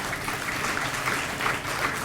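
Dense, steady applause from an audience at an Indian Independence Day celebration honouring women freedom fighters, a continuous even clatter of many hands throughout.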